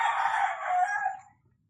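A single rooster crow rings out close by, a long rising-then-falling call that fades into near silence.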